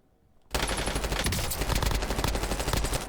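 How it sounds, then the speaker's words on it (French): Enemy gunfire in a Call of Duty Warzone battle royale match: a sudden, loud, sustained burst of rapid automatic fire that keeps rattling without pause after a quiet start. "Il y a un mec qui me tire dessus, peut-être un bot"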